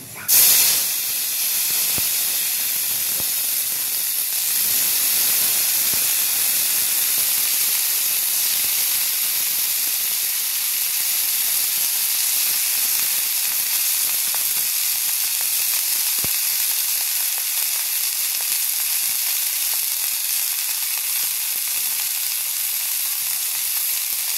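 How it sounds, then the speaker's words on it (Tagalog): Broccoli sautéing in a hot pan gives a steady, loud sizzling hiss that holds evenly from start to finish, with no talking. "ilalagay na po natin itong broccoli natin. Ayan, ikikisa na po natin."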